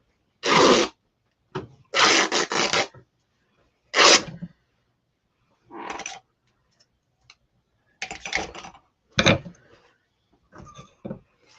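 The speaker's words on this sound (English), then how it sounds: "So I have a little snip, and I'm just going to tear the rest" Paper transfer sheet for Chalk Couture holiday stencil work torn by hand in several short, separate ripping bursts with pauses between, close and fairly loud, with no talking.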